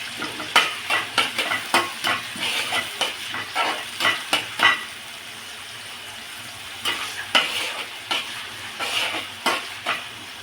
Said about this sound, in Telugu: ఉల్లిపాయలు వేగాలి కదా